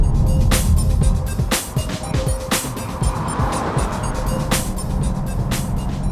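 Interior road noise from a car on ultra high performance all-season tires over smooth to medium coarse pavement, a steady droning rumble with a faint sustained tone and repeated thumps from the road surface.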